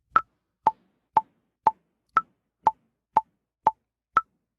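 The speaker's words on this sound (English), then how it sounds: "you should hear a click." A metronome click in recording software, nine sharp identical ticks evenly spaced about half a second apart, clean and alone against silence.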